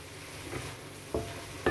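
Scallops stir-frying with celery, black fungus and chili over high heat: a brief soft sizzle with a couple of quick spatula scrapes against the pan near the end.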